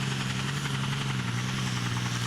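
A pulling tractor powered by a 19.2 litre Transmash engine of about 1,000 horsepower roars at a tractor pulling championship in Korskro, a loud, continuous low drone that stays close and steady for the whole stretch.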